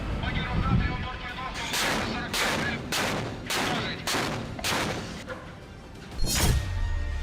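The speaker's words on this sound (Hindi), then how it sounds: "रूस के 20 युद्धपोत लगातार बारूद बरसा रहे" Heavy artillery fire from Russian warships in the Black Sea: about eight loud, close booming blasts in steady succession, each roughly three-quarters of a second apart, with rumbling decay between them and a final sharper blast.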